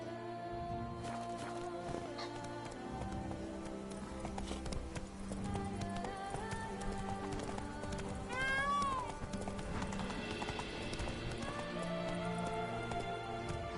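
Roach, a horse in The Witcher 3: Blood and Wine, gallops with a continuous clip-clop of hooves under game music and ambience, with a brief whinny partway through.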